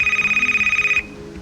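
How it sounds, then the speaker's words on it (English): The hacker phone in the game BROK the InvestiGator rings with a rapid, pulsing electronic trill, loud and steady for about a second before cutting off into quiet room tone. "The hacker phone. It's ringing."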